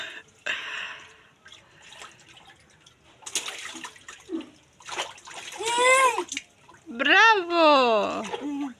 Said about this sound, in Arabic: يلا طبش بالمي يا شطور